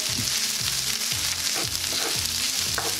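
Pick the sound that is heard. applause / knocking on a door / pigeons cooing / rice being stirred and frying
rice being stirred and frying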